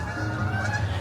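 Geese honk close by in a brief, loud burst of overlapping nasal calls outdoors near a fountain.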